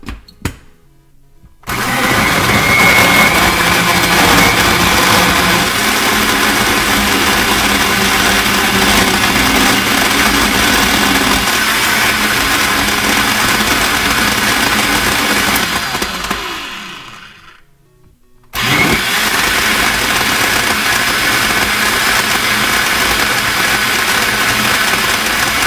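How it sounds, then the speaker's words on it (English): Countertop blender crushing ice for a cinnamon roll smoothie, a loud steady whir that runs for about fifteen seconds, dips as the motor slows and briefly stops, then roars back up at full power. "and then you're going to blend it all up."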